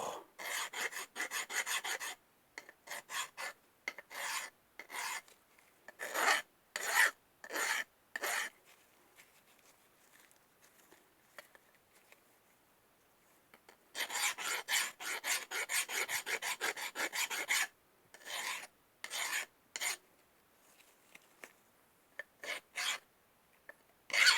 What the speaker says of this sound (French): donc plus qu'à les bavurer là. Petit coup des bavurages